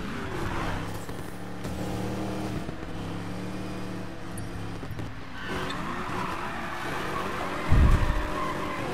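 Racing video game car drifting, with engine drone and layered tire squeal over a busy mix of game sound, then a sudden heavy low thump near the end.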